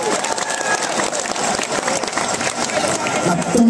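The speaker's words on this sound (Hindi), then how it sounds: "खुद ताली बजा लो अपने हाथों से।" A crowd of devotees claps hands together at a religious gathering, a loud, dense, continuous patter of many hands filling the space, with voices mixed in beneath the clapping.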